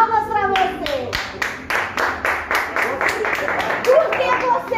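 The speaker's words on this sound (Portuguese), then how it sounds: "Palmas pra você." Small group clapping in a podcast studio, a quick run of separate, evenly spaced hand claps that stand out clearly while voices talk underneath and around them.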